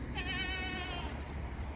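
A single drawn-out goat bleat with a wavering, nasal tone, rising over steady outdoor background noise on a frosty morning, close by.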